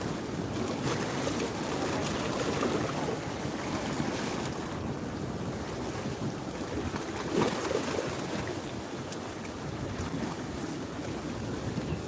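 Ocean waves rise and roll in at Pangandaran beach, a steady loud wash of surf mixed with wind buffeting the microphone, continuing without a break and with no voices.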